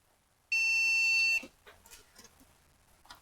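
One loud, steady electronic beep of about a second from an Asus P3B-F motherboard reporting a memory error, then quiet with soft handling clicks and rustles.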